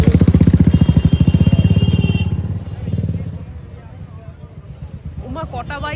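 Motorcycle engines idle and rev close by with a strong throbbing pulse that fades as they roll up and stop, followed by voices chattering over the quieter tail.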